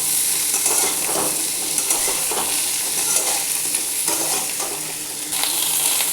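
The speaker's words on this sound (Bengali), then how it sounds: "লালচে করে ভাজবো।" Pointed gourd (potol) frying in oil until reddish, a steady loud sizzle with scraping stirs of a spatula against the pan, no talk.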